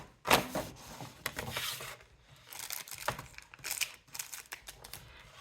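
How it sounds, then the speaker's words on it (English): A handheld paper trimmer slices through paper for a file folder mini album, giving a few close, crisp cutting strokes and dry crinkles separated by short pauses. "I'm going to use my paper trimmer because I know it will help me get a straight line"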